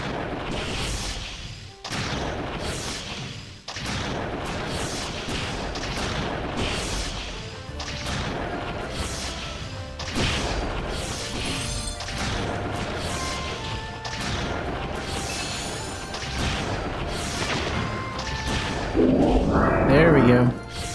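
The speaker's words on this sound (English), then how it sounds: "gotta watch out for these exploding skeletons" Exploding skeletons in the video game Mabinogi go off in a series of heavy crashing thuds and booms, repeated every couple of seconds over game music, with a voice talking now and then.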